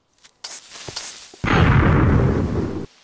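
Creeper explosion in Minecraft: a few soft clicks and a short fizzing hiss lead into a loud, broad blast that roars for over a second before stopping abruptly.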